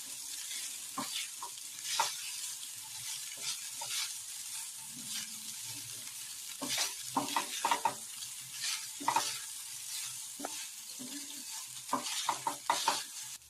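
Vegetable fried rice stirred in a pan, with soft scraping and stirring scrapes repeating irregularly over a quiet, steady sizzle; near and moderately loud, with no talking.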